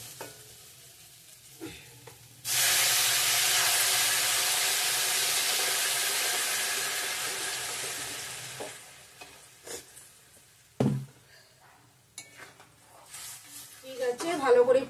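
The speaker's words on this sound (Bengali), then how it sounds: "এখন জল দিয়ে দেবো, গরম জল।" Hot water poured into spice paste frying in oil for a cucumber, potato and egg curry bursts into a loud, sustained sizzle that slowly fades over several seconds, followed by stirring clinks, with someone speaking before and after.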